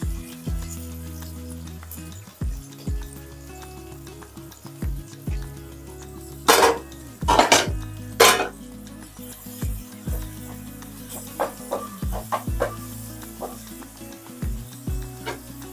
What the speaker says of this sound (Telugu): ఉల్లిపాయ ముక్కలు వేపుకున్నాం కదా,